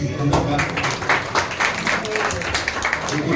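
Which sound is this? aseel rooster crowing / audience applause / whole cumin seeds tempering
audience applause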